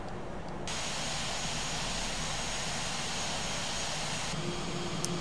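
Simulated Airbus A319 airliner descending in Flight Simulator X, a steady broadband engine and airflow roar that holds loud and even throughout with no speech.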